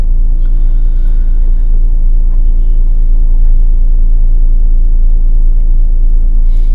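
Constant low road-traffic rumble near Quba Mosque in Madinah, a loud, even drone of car engines in congested streets, heard from inside a vehicle with no clear speech.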